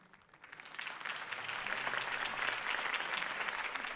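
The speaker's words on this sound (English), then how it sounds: "If only Mr. Wayne, my campaign's largest backer, could have heard that applause" Crowd applause at a Harvey Dent campaign rally in the Telltale Batman video game, swelling from quiet into a sustained, even clapping of a large audience.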